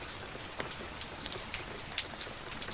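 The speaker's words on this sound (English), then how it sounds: "Just rain." Steady rain falls with a soft, even hiss, and scattered drops tap throughout. It is fairly faint and has no voices over it.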